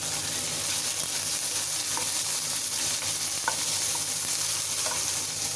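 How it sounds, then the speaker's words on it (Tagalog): Ham frying in a pan over low heat, a steady broadband sizzle throughout with a few faint clinks of a utensil, close and continuous with no talking. "Fry na po natin ang ating ham and egg."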